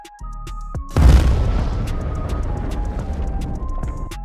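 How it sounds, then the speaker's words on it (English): A Russian vehicle blows apart in a HIMARS strike: one loud, close boom hits suddenly, then a long rumbling roar of fire and debris slowly fades. "The sheer force of the explosion highlights just how devastating this machine's charges are"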